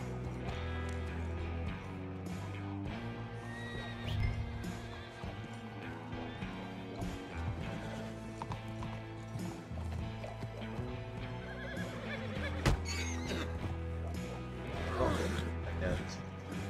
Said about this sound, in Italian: Antonio, sali sul cavallo così prendiamo noi e facciamo prima.